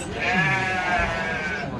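Sheep bleat loudly and close at a livestock market, a wavering harmonic call held through the whole short stretch, with faint crowd noise beneath.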